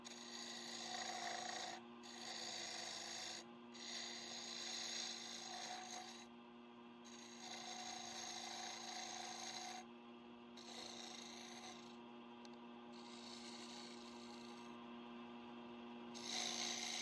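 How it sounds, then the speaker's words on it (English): A woodturning scraper shaping wood on a lathe while turning a clock, giving a steady rasping scrape over a constant motor hum, with brief pauses as the tool lifts off the workpiece. "So after doing most of the rough work with the scraper"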